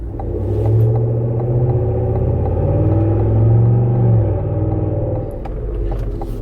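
Cadillac Escalade fitted with a Corsa Sport exhaust climbing a hill in traffic at part throttle, a loud, close, deep droning rumble that swells and eases slightly, with no talking.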